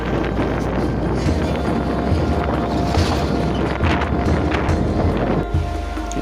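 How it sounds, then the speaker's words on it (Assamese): Strong wind buffets a microphone outdoors in Morigaon, Assam, producing a heavy, continuous low rumble and roar that stays loud throughout, with no speech. "আপোনালোকে শুনি পাইছে বতাহ কিমান চাউণ্ড মাৰিছে"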